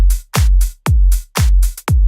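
Deep house drum loop in Ableton without OTT compression: four heavy kicks with pitch-dropping thumps and bright hats, punchy and loud with gaps between hits, no voices.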